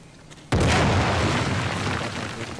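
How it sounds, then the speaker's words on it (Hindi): A grenade blows open a wall in the video game Uncharted: The Lost Legacy, a sudden loud blast after a quiet moment, followed by a long, rumbling roar of debris that slowly fades. "ये दीवार फूटनी चाहिए ग्रेनेड से।"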